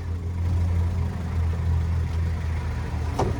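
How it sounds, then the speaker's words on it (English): A 1975 Toyota Land Cruiser BJ40, freshly restored, idles in traffic with a steady low engine rumble, moderately quiet and continuous, with faint road noise around it and no speech. "Stuck in traffic."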